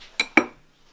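A knife slices through a vegan gluten-free chocolate chip pound cake on a Denby plate, giving two sharp, close clinks a moment apart as the blade meets the ceramic, then quiet.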